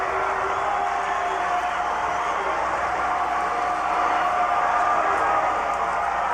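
A crowd roars steadily in the stands at a 7A high school state championship football game in North Little Rock, a broad, continuous wash of distant voices with a slight swell toward the end.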